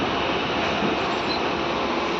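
Nandyal–Kurnool DEMU train rolling along, a continuous rumbling roar of wheels and carriage noise heard from inside, steady and fairly loud across the short stretch.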